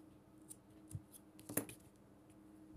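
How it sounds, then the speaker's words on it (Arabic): Scissors snipping excess crochet yarn on an amigurumi pumpkin, a few quiet, close clicks spread over a couple of seconds in an otherwise hushed room. "نقص بقى اي خيط زيادة"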